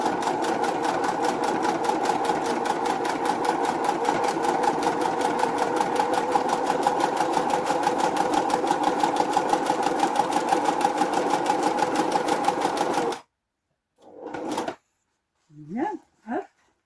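A sewing machine stitching a zigzag seam on faux leather, running in a fast, steady, loud mechanical rattle for about thirteen seconds, then stopping, followed by brief talk.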